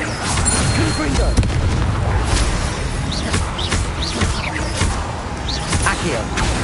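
Explosive Confringo spell blasts in the Hogwarts Legacy video game, with heavy booms and whooshes over a dense, continuous wash of game sound and effects.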